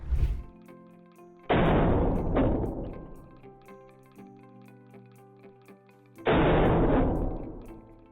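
A heavy object strikes a cast epoxy resin piece twice, each blow a loud, broad crashing thud with a ringing decay between them, alone with no talk.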